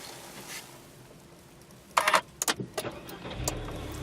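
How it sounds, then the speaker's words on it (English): A Nissan Juke Nismo's 1.6-liter turbocharged engine is started by push button: a few clicks and rattles, then the engine catches and settles into a low idle near the end. "To start the engine, put your foot on the brake and then hit this button."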